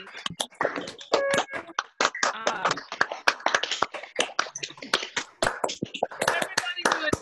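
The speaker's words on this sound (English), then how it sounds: "One more round of applause for everybody." An audience at an intermediate poetry festival gives a round of applause: dense, steady clapping from many hands that lasts the whole stretch, with some voices mixed in.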